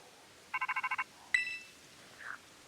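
A phone call rings in Pokemon Scarlet: a quick run of seven electronic chirps, then a sharp chime tone and a short soft blip, clean game audio with no talk.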